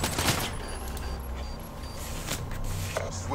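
Gunfire in a Call of Duty Black Ops 3 kill cam, a rapid fusillade of shots over a busy rumbling game background, moderately loud and continuous with scattered sharper bursts.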